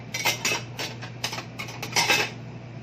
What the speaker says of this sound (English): I'm going to cover this pan